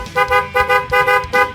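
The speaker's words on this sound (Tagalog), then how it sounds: "Palit busina na tayo. Hella horn." A new Hella horn fitted to a Kymco XTOWN scooter sounds four short, loud, close honks with brief gaps between them, with no talking.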